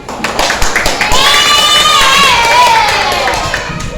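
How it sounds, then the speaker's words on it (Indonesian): A classroom of schoolchildren claps and cheers loudly together, a dense burst of shouting voices and hand claps that swells and carries on for several seconds. "Kita berikan tepuk tangan untuk diri kita sendiri."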